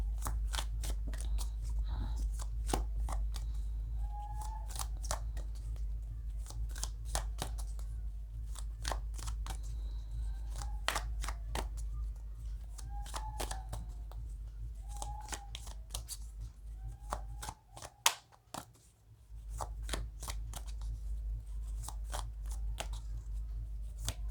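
Tarot cards shuffled by hand in a sharp, repeated series of crisp riffling snaps over a steady low hum, close and fairly loud, with a brief pause near the end and no talking.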